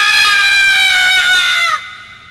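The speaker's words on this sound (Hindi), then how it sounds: "एक आदमी चीखता हुआ उनके बगल से गुजरा, जो शायद आग की लपटों में था।" A man screaming loudly as a horror-story sound effect, a single sustained, piercing cry held for nearly two seconds before cutting off into a brief fading tail.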